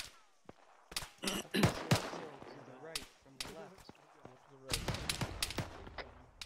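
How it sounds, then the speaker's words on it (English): Mortars firing outdoors during army basic training, with a dense run of sharp blasts and cracks, some booming low, scattered irregularly through the stretch and mixed with background voices. "They're firing mortars."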